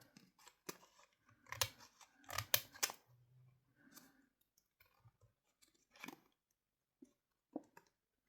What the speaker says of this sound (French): je vais découper le surplus